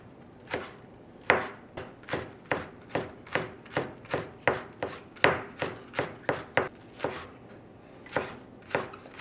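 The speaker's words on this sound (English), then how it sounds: "So for the green onions, we're just gonna do something pretty straightforward. Just cut them out into small niblets." Knife chopping green onions into small pieces on a board for a sandwich, a steady series of about twenty crisp, close chops in a regular rhythm, with no talk.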